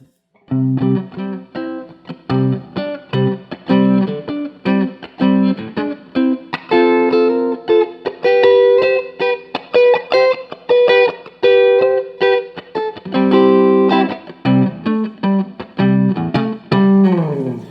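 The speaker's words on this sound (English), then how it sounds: "Right now, we're going to just play with the neck pickup." Electric guitar played through its neck pickup, picked in a steady run of clean, warm, throaty notes and chords, loud and up close, with no voice.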